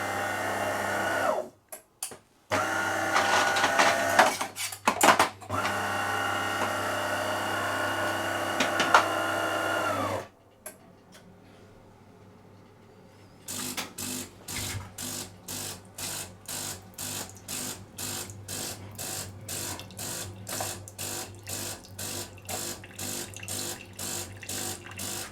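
A Delonghi Dinamica coffee machine running its rinse cycle, with a loud steady rushing and pumping for about ten seconds, a short lull, then a long run of evenly spaced rhythmic pulses from the pump.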